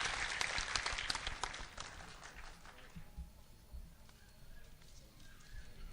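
Audience at a mushaira clapping to welcome guests, a dense burst of many hands that is loudest at first, then thins out into scattered claps over a quiet room.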